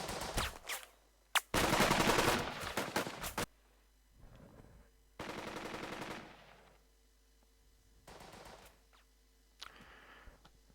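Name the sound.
machine gun squad firing in a video game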